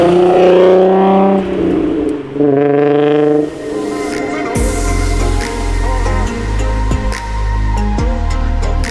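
A 3.6-liter VR6 swapped into a Mark 6 GTI revs in a few loud close blips that rise and fall, then settles into a rough, lumpy idle with some clicks.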